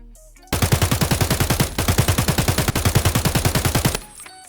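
An AK-74N rifle in Escape From Tarkov fires long full-auto bursts, loud rapid evenly spaced shots with one brief pause in the middle, then stops abruptly.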